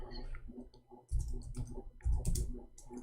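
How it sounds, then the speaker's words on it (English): Keys on a computer keyboard clatter in short irregular bursts of clicks, close and fairly quiet, with no voices over them. "We are typing in English, hold on."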